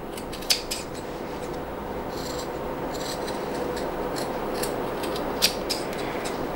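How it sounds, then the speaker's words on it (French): Steady snipping and rasping of scissors cutting curved corners from fabric for a sewn belt bag, close and continuous with a couple of sharper snips. "Maintenant que j'ai tracé tous mes arrondis, je vais donc les découper."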